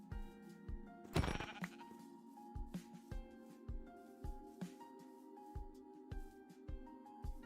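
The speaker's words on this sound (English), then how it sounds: "Bighorn, bighorn, sheep." Bighorn sheep in a Minecraft-style video game, bleating in a steady series of short, moderately loud calls over a faint sustained background tone.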